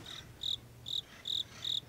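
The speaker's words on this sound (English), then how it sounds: "I caught the crickets" Crickets chirp in short, regular pulses, about one every half second, close and clear against quiet background hiss.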